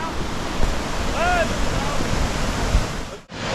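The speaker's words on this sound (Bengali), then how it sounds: "আর জলের ফ্লোটা একটু কম আছে, তো এখান থেকে জলটা নিচে চলে যাচ্ছে" Water spilling over the top of Phe Phe waterfall in Meghalaya at low flow, heard as a steady broad rushing wash with a faint whistle-like tone briefly over it.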